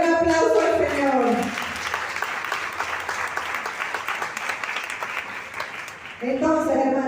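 Congregation at a prosperity retreat clapping for the Lord, a sustained round of applause of moderate loudness lasting several seconds, with a voice speaking briefly at the start and again at the end.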